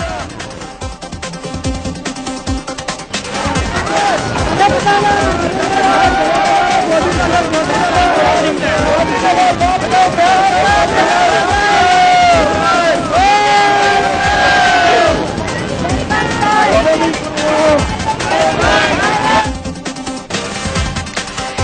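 A large, excited crowd gathered at an airport to greet Indian Prime Minister Narendra Modi, loudly chanting "Modi Modi" and "Bharat Mata ki Jai" in a continuous roar of voices that rises and falls.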